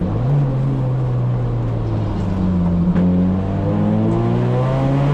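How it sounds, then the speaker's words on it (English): A Toyota Corolla race car's engine runs hard on the Thunder Hill track, a loud, steady drone whose pitch slowly climbs as the car accelerates, with no break throughout. "Why did you fucking turn this car on? You're going too fast, Ricky Bobby. Slow down"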